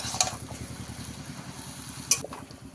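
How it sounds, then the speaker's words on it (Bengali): A spatula scrapes and stirs lote fish and Malabar spinach greens in a pan, with a soft steady sizzle underneath and two sharper clinks against the metal. "ভালো করে নেড়ে চেড়ে মিশিয়ে নিতে হবে।"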